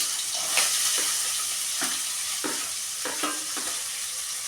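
Onion frying in hot oil with mustard seeds, heard as a steady sizzle with brief stirring scrapes and small pops at intervals, close and alone with no talk.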